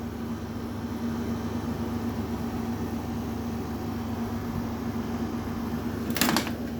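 A Keystone window air conditioner runs with a steady whirring fan and a low mechanical hum, holding an even level throughout, with a brief rattling clatter near the end.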